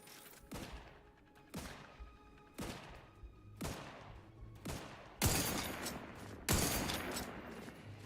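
Mortar rounds firing in Outer Worlds 2, a series of about seven sharp booming thumps spaced roughly a second apart, the last two louder and longer with rumbling tails.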